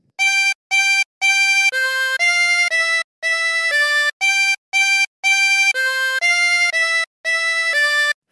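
Close, bright harmonica notes form a bouncy melodic phrase from Hark the Herald Angels Sing, short repeated tones mixed with longer held ones, played alone and clearly.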